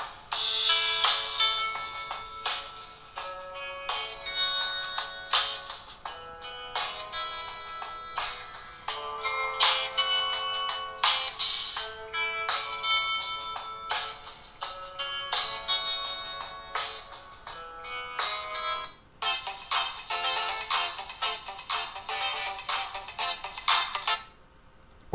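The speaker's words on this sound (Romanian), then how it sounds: "hai să vedem cum sună muzica" Upbeat electronic music with bright, plinking melodic notes and a steady pulse plays from the small built-in speaker of an LG Q7 phone, thin on bass and continuous for about twenty-five seconds with no talking.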